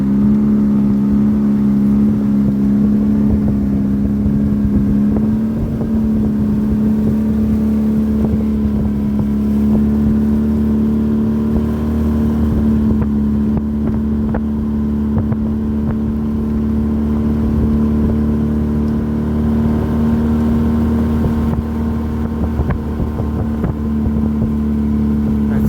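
Houseboat motor running on Dog Creek, a loud, steady close engine drone with a constant low hum and slight wind noise, unbroken throughout with no talk.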